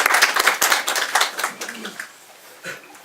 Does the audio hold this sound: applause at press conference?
yes